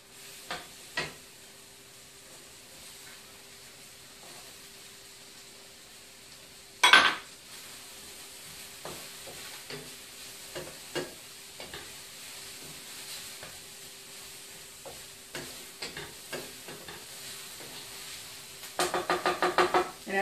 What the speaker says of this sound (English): Okay, so the mushrooms are still cooking up